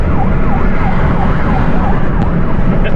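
A vehicle siren wails in a steady rising and falling pattern during a cheap-car rally through Europe, loud and continuous under heavy road and engine noise, with no talk.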